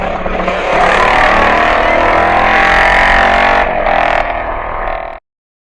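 A 1967 TT racing motorcycle with a squish-head engine and a megaphone silencer inside the fishtail blares at close range, a loud sustained exhaust note that rises and shifts in pitch before cutting off abruptly.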